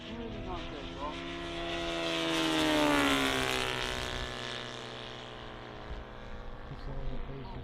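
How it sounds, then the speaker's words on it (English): Old warbird scale model aircraft making a flypast at the Popham model airshow, its propeller engine droning in from a distance, swelling loud overhead with a falling pitch, then fading away, continuous and alone. "We've seen quite a few of the old warbirds aircraft here today, flown by some of the wonderful pilots here."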